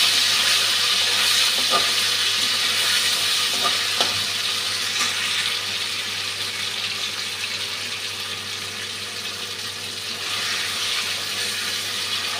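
Paneer pieces frying in hot oil give a steady, dense sizzle with faint crackles throughout, close and fairly loud, with no talk.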